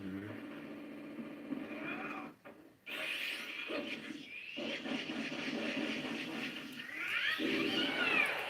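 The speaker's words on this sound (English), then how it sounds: "Stupid cat." A cat meows several times in a room while a voice talks over a game, drawn-out rising and falling cries mixed under speech and some rubbing noises, growing louder near the end.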